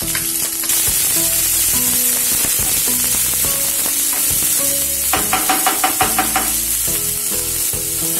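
Mustard seeds, cumin and ginger-garlic paste sizzling in hot oil for a dal tadka, a loud steady frying hiss with a burst of rapid seed popping midway and scraping stirs throughout.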